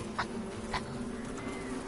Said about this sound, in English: swat the bees, swat the bees